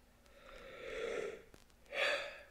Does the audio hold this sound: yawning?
yes